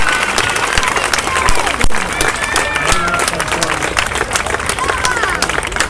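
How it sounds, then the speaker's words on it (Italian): Applause for judo athlete Alice Giannuzzi at a sports awards ceremony: steady crowd clapping with scattered sharp claps, mixed with murmuring and voices in the hall. "Un altro applauso, è emozionata Alice."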